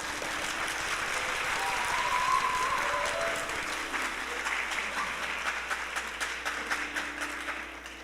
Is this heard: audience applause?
yes